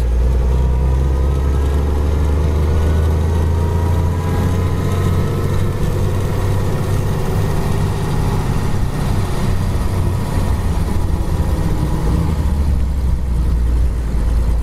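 A 1929 Chevrolet's old engine drones steadily and loudly while the car is driven, a continuous low rumble with no break across the whole stretch.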